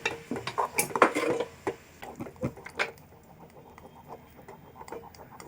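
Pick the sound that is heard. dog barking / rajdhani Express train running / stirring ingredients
stirring ingredients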